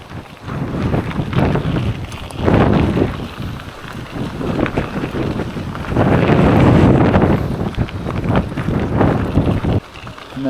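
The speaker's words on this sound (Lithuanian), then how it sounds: "vėjas tai šiandien tragedija visiška" Strong gusting wind buffeting a microphone on a cyclist's ride by the Nemunas river near a bicycle ferry, loud rumbling surges rising and falling, with no speech.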